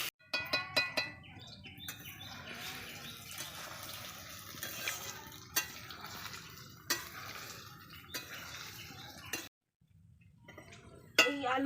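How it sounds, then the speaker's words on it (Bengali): Boiled potatoes fry lightly in leftover oil for Bengali papri chaat, with a soft steady sizzle broken by sharp scrapes and clinks of a spatula stirring the pan, a brief pause near the end, then more stirring. "সেই তেলেই আমি সিদ্ধ করে যে আলুগুলো আমি হালকা করে একটু ভেজে নেব"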